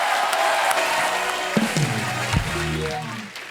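Studio audience at a comedy talk show applauding and cheering as guests take their seats, a dense crowd roar with clapping, loud and continuous, with tonal music or voices layered over it toward the end.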